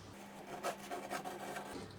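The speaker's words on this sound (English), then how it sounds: "with a knife, we trim away some of the more extreme bits of squeeze out" A knife blade scrapes and rasps along wooden guitar sides, trimming away dried glue squeeze-out in a few short strokes, close and quiet over a faint background hum.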